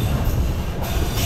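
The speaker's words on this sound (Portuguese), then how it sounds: "conseguimos pegar o trem" A moving train's car rumbles loudly and steadily on the rails from inside, a dense roar of wheel and track noise with faint high squeal, no voices heard.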